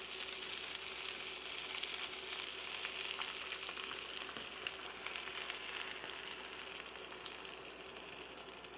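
Beaten eggs frying in a pan for frittata, a steady, even sizzle that carries on close and unbroken, with faint crackles and no talking.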